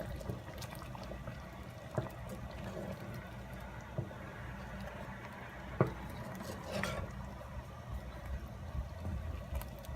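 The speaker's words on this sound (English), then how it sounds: "And then we stir." Spoon stirring egusi soup with crayfish in a pot, soft wet scraping and a few clinks against the metal, close and fairly quiet.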